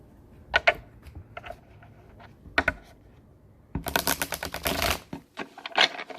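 Tarot cards are handled close by in brisk clicks and snaps, scattered taps giving way to a dense flurry of riffle-like shuffling before a few final card pulls.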